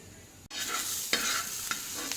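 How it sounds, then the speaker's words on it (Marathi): Onion, garlic, coconut and ginger roast in oil on a hot griddle, sizzling and crackling steadily, with a few sharp stirring scrapes breaking through. "कांदा लसूण खोबरं आणि अद्रक आपण थोडं तव्यावर तेल घालून भाजून घेऊ"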